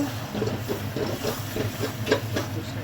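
A paste of cashew, charmagaz melon seeds, poppy seeds and white sesame sizzles as it fries in a pan, giving a steady close hiss with faint crackles and no talk.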